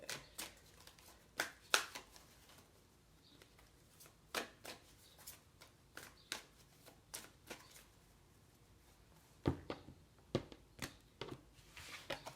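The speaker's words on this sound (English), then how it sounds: "no more shuffling." A deck of playing cards is shuffled in repeated quick riffling bursts, close and fairly quiet, with short pauses between the shuffles and no talking.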